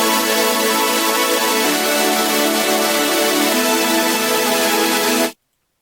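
Several detuned synth layers stacked together sound a dense, bright sustained chord that shifts once partway through, loud and alone, then cuts off sharply at the end.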